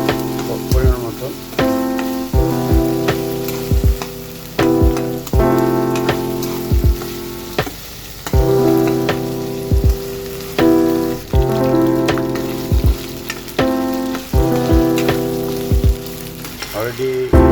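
Dried fish frying with onion in a pan gives a loud, continuous sizzle with repeated stirring scrapes, heard under background music and without speech.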